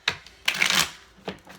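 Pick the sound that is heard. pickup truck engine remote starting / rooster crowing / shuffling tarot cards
shuffling tarot cards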